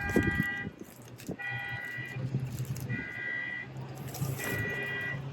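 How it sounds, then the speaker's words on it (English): A passing car's alarm beeps tonally in repeated bursts, somewhat distant, over steady traffic and background hum. "Somebody's car alarm is protesting as they're driving along."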